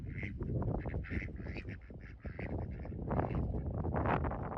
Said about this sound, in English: I hear there's some commotion going on up here by the geese out in the orchard.